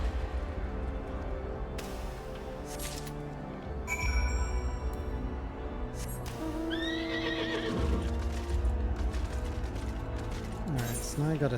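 A horse whinnies several times in Final Fantasy XIV, its neighs rising over a steady rumble of hooves and game ambience, with brief chimes and effects layered on top.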